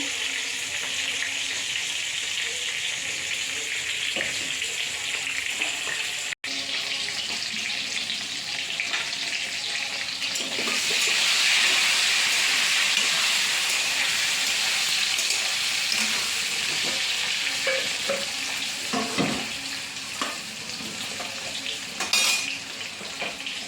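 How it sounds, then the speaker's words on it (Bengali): Pieces of pointed gourd (potol) sizzle steadily in hot oil with turmeric, a continuous bright hiss that swells partway through, with occasional clinks of a utensil against the pan. "পটলটা ভাজা হচ্ছে"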